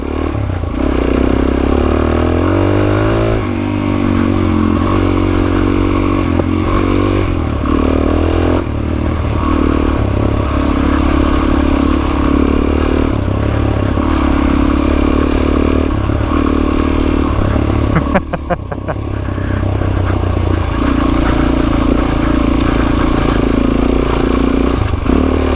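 A dirt bike engine runs loud and close on the Rocky Gap Easy Loop trail, a continuous rumbling idle with several rising and falling revs and a brief clattering dip midway.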